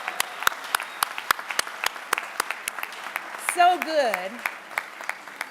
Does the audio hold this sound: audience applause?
yes